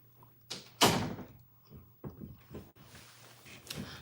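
A door closes with a solid thud near the start, followed by a few softer knocks and rustles in a quiet room.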